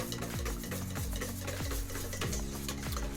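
A whisk beats tartar sauce mix in a bowl with a quick, regular rhythm of soft scraping strokes, several per second, close by and fairly quiet, with no talking.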